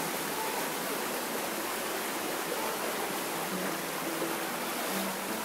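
A stream of water rushes down toward the ocean as a dense, steady hiss, loud and unbroken throughout, with no voices.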